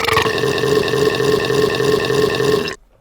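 One long, loud, rumbling burp holds steadily for nearly three seconds, close and alone, then cuts off abruptly into silence.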